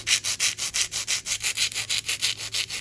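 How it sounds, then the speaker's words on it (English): A hand file rasps back and forth across the sides of polygel fingernails in a quick, even rhythm, about six strokes per second, close and crisp with no talking. "take a hand file and just file in the sides of the nails"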